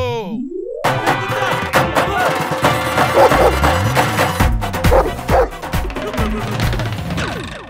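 In a Hindi comedy sketch set at an old mansion, a dog barks in several loud, close bursts over busy music, with voices mixed in.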